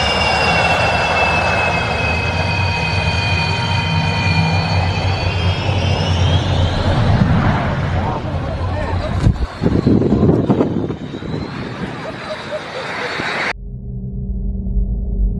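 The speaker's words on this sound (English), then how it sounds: "The fighter jet pulses its engine, which causes a massive force of wind" A fighter jet on the ground at an air show, its engine roaring loud and close with whining high tones, surging into a harsh blast of rushing exhaust before cutting off abruptly to a low background hum.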